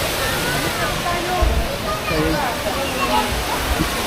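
A resort waterfall at a nature resort in Cavite gives a steady, full rush of falling water close by, a constant roar, with a brief spoken word over it.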